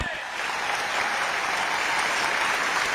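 Audience applause at a political speech, steady dense clapping that swells after a brief softer start and holds loud and continuous throughout.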